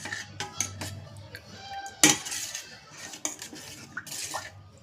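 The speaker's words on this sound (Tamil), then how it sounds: "இப்போ இதுக்கு ஒரு மூடியை போட்டு வச்சுருவோம்" A lid clatters onto a metal pot of coarsely broken millet (kambu) batter with one sharp knock, surrounded by lighter clinks and handling noises in a quiet kitchen.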